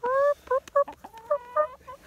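Chickens being fed corn give a short run of bright, tonal clucks and calls, several close bursts in quick succession with brief gaps, fairly loud and with no talking over them.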